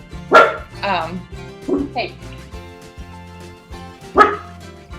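A dog barks sharply several times close by, with whiny yips in between, while a person speaks briefly.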